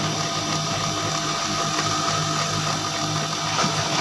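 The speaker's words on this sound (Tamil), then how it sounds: "பிரிண்டர் ரெடி ஆகிட்டு இருக்குது." An HP LaserJet M1136 MFP laser printer warms up after its toner door is closed, with a steady mechanical whirring hum held at an even level, close and continuous, with no voices.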